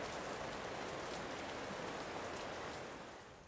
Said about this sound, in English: looks like the rain came too soon, so we're going to have to wait this one out